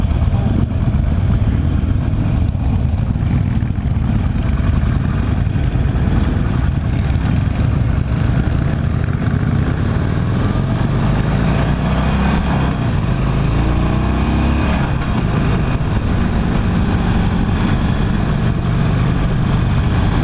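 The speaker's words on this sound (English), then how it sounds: "The whole bike shakes at idle. It's the classic Harley V-twin rumble." 2016 Harley-Davidson Forty-Eight V-twin idling, a loud, steady low rumble with a throbbing pulse, close and continuous throughout with no talk.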